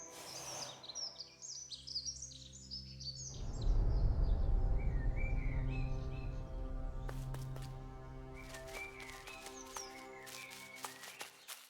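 Birds chirping in the video game The Last Campfire: bright, repeated tweets and trills, clear at the start, then softer calls continuing over a rumbling musical backdrop.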